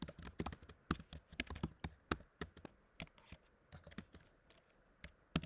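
Quiet clicking of a computer keyboard as notes are typed, a steady run of light, irregular key taps with no talking.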